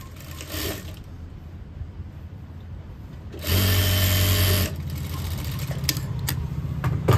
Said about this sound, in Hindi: इस पोर्शन की इस तरह सिलाई कर लेंगे